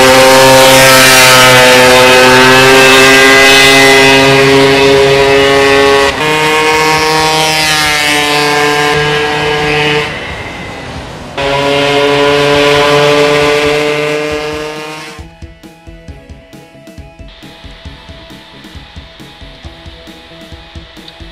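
A TGB 303 Laser scooter with a 72cc racing upgrade engine revs hard and loud, a high buzzing two-stroke whine holding and dropping in long pulls before falling to a lighter idle.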